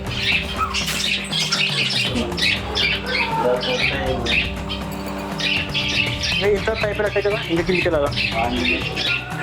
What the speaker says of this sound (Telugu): చూడండి, ఇక్కడ పక్షులు కూడా ఉన్నాయి.